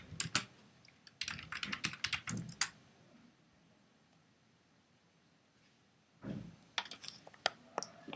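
Typing on a computer keyboard into a Mac OS X terminal to check a Ruby install, with bursts of close, rapid key clicks, a quiet pause of several seconds, then another burst of keystrokes.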